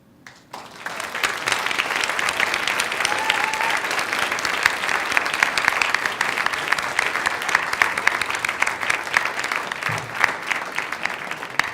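Sustained applause from a large audience at a PechaKucha night in Portland, Maine, steady clapping that fills the room for several seconds after a quiet start.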